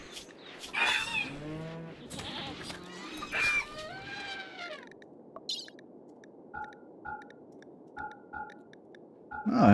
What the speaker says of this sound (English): Lots of chickens getting slaughtered.